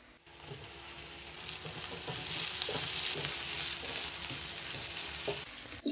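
Onions and tomatoes fry in a karahi with a steady, close sizzle and intermittent stirring scrapes, building slightly louder midway and holding with no talking.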